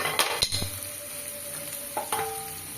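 Crab masala ingredients sauté in a pan with salt, a soft sizzle under a few sharp spoon clinks and stirring scrapes, close and moderately quiet.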